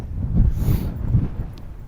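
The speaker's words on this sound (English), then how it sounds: "And wind's picked up as well" Wind buffeting the microphone on a Lake District hill walk, low gusty rumbles rising and falling in short surges, close and fairly loud.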